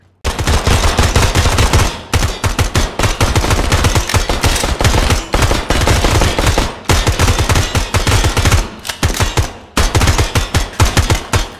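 Sustained rapid gunfire from the tactical shooter video game Ground Branch, loud and dense automatic bursts almost continuous for the whole stretch, with only brief gaps and no speech.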